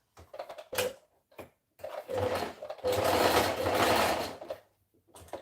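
A sewing machine zigzag stitches pants fabric in short bursts: quick rapid chattering runs separated by pauses, then a longer steady stretch of fast mechanical stitching, close and clear.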